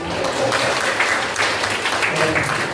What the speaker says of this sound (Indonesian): Oke, tepuk tangan teman-teman semuanya.